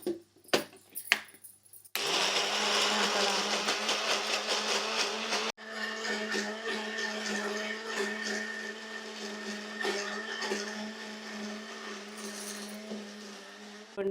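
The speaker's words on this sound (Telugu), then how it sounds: "ఇదిగోండి మసాలా ఆడుతున్నాను అనమాట" A mixer grinder whirs loudly while grinding masala spices for a vegetable biryani, starting after a couple of faint clicks and running steadily close by with a high, rattling whine that briefly stops and restarts.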